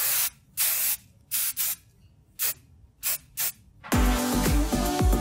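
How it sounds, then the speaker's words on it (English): Hairspray on a wig comes out in repeated short hissing bursts of varying length, close and loud, before music takes over near the end. "Just a touch of hairspray."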